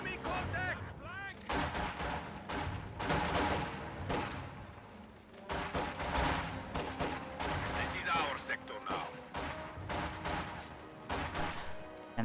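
Heavy Maxim machine gun fire mixed with explosions and other gunfire in a WWII real-time strategy video game, dense continuous battle noise with a voice talking over it.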